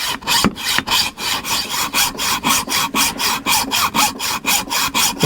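A hand hacksaw cuts through metal in a workshop with steady, evenly spaced back-and-forth strokes, each rasping pass clear and close, about three strokes per second, no voices.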